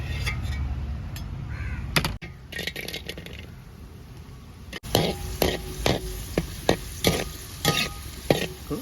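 Close, crackling sizzle of food frying in a pan, with repeated scraping stirs and a few clinks; crows caw faintly in the background.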